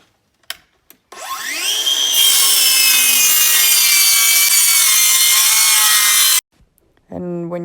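A power saw cuts a wood board for a herringbone accent wall in a bedroom, rising from a brief start into a loud, steady high-pitched whine and grind for about five seconds, then cutting off, followed by a short tool sound.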